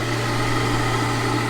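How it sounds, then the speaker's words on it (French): Cooling fan of the charger in a BMW fully electric scooter, charging at 10 amps and venting the top of the battery, a loud steady whirring hum with a constant low drone, close up and unchanging, no talking. "on entend le ventilo en fait"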